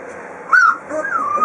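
Three-week-old puppies making a rising whine and a short yip-like call, close and fairly loud, with a steady low murmur of grumbling underneath across the short clip.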